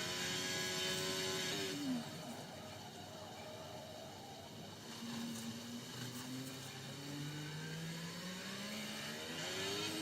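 Racing car engines in a Canada Grand Prix racing game whine and shift pitch, one downshifting early, then others rising and falling as cars pass, a steady engine roar throughout.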